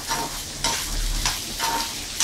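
Raw banana pieces stir-fry in oil in a pan with a steady close sizzle, broken by several rhythmic scraping stirs of a spatula at regular intervals, with no voices.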